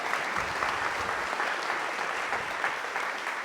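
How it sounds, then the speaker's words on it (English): A brief, steady round of applause from a seated audience at a talk on environmental behavioral science, moderately faint and continuous with no voices over it. "can we give a quick round of applause for the RARE organization?"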